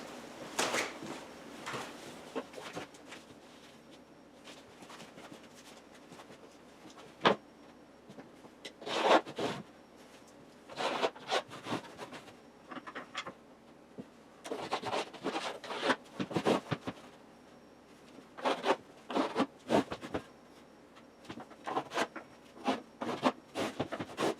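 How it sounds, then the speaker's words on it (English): A pencil scratches and rubs along a board guided by a level, marking screw lines for a chicken coop foundation, in short bursts of scraping strokes with pauses and occasional knocks of the level, close by. "I'll use my level and I'll draw my lines for my screws"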